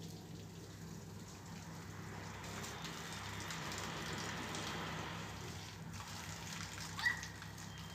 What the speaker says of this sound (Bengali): যে কোনো সময় বৃষ্টি বেড়েও যেতে পারে